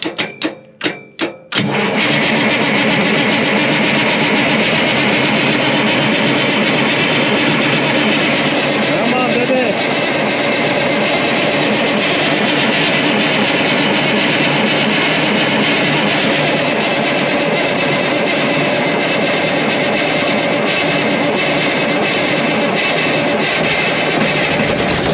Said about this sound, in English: there's a cold start for you